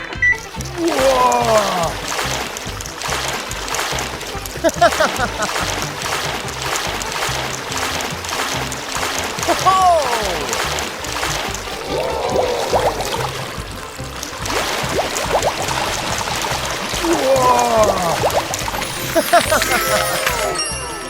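Water pumped through a tiny LEGO well and irrigation setup splashes and trickles steadily, with soft pouring and burbling throughout and repeated bright squeaks rising over the flow.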